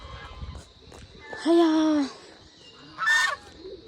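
A goose at a village pond gives two loud, nasal honks a second or so apart, close by, amid quiet rustling background.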